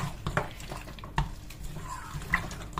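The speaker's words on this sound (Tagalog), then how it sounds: "Dahil dito diretso ko na siyang igigisa." A pan of food being sautéed with soy sauce gives off quiet scraping and clinking as a utensil stirs against the metal, with scattered soft knocks over a faint background sizzle.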